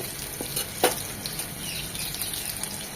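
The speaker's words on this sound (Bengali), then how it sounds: "এইভাবে উল্টিয়ে পাল্টিয়ে নেড়ে চেড়ে শিকগুলোকে আমরা কুক করে নেব" Minced beef seekh kebabs frying in a pan while being turned over, a steady sizzle with a few brief scraping and clattering touches as they are moved.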